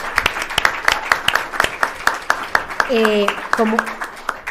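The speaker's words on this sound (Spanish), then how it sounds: "primero un aplauso para todos los panelistas" Audience applauding panelists at a panel discussion, a sparse, rhythmic pattern of individual claps, fairly close, with a voice briefly speaking over the clapping near the end.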